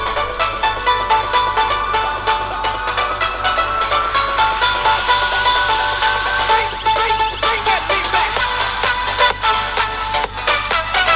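Continuous music with dense, busy texture and a steady thin bass, played through small budget laptop speakers without pause for the whole stretch.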